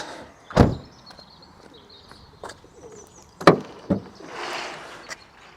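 A car's bonnet is released and opened, giving a few separate knocks and clunks of the catch and panel, set apart by quiet pauses.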